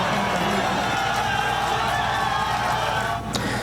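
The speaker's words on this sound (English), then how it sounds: "the crowd erupted at Shakespeare Pub in Mission Hills when the Americans scored on the way to a 2-0 win over Australia" A packed pub crowd roars at a USA World Cup goal against Australia, a dense and continuous wash of cheering and shouting voices that holds loud throughout.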